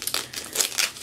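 Donut-print wrapping paper on a parcel crinkles and crumples in several quick, close rustling bursts with no talking.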